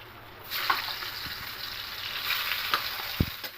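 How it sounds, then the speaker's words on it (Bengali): Bitter gourd pieces fry in oil in a pan, giving a steady soft sizzle with a few light clicks and taps, fairly quiet and with no talking. "দিয়ে উচ্ছেগুলোকে ভেজে নেব"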